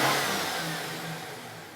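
Supercharged pickup truck engine with an Edelbrock E-Force blower revs up close, a loud rising roar with a whirring supercharger whine that then eases back and holds a high idle.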